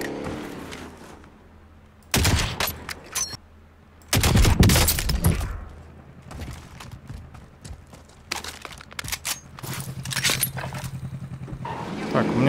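Gunfire in the battle royale game Call of Duty Warzone, heard as several loud bursts of shots in clusters, with distant shooting and intermittent talk between them.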